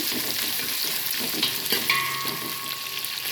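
Sliced onions and a handful of green chillies fry in a pan, giving a steady, close crackling sizzle with a few stirring scrapes, and no one speaks.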